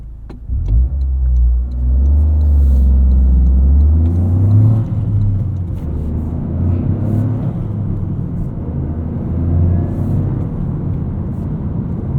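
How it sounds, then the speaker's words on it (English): A 2023 Toyota GR Corolla engine, heard from inside the car, revs loudly with throttle blips between gear shifts, rising and falling in pitch before settling into a steady drone while driving, with no talking. "I'll do a little bit of blipping on my own to help it on its way"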